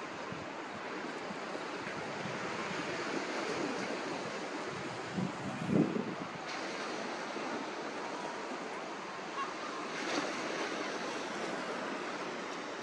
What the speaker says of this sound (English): It's windy, but it's not as bad on this side.